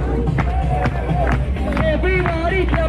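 A crowd claps at the Easter Bonnet Festival in New York City, steady clapping mixed with lively crowd chatter and voices calling out close by.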